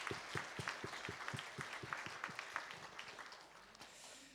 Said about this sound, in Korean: 하나님께 감사 큰 박수 한번 올려드리겠습니다